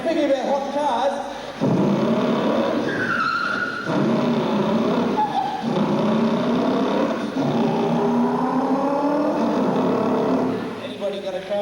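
A car engine revs in several rising and falling bursts, loud and close, with its pitch sweeping up and down between short pauses.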